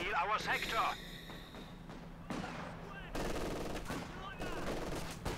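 Machine-gun bursts from Company of Heroes 2, sharp rapid clattering volleys repeating across the stretch, with mixed battle effects and game sound layered underneath.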